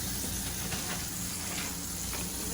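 Bacon sizzling and crackling in a hot pan, a steady dense hiss with small irregular pops, heard close and alone.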